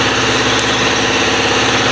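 A 5.3-litre V8 with a dropped lifter idles loudly and close, a steady rumble carrying a rapid ticking knock throughout, with no talking.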